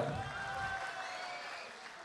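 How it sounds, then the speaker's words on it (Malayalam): Applause from an audience at a Malayalam comedy stage show, a steady dense clatter of clapping held at an even level for the whole couple of seconds. "നാസർ ഹോട്ടലിൻ്റെ എല്ലാം എല്ലാമായ ഖാദറിന് നല്ല ഒരു കൈയടി ഫ്രീ ആയിട്ട് കൊടുക്കുക"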